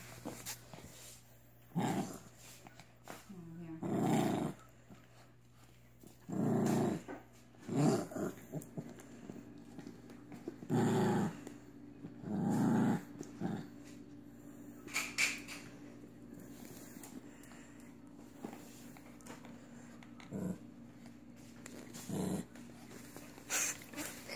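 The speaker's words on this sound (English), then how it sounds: "She growls whenever I touch it." A dog growls in several low, rumbling bursts separated by short pauses, close by and fairly quiet, with no talking.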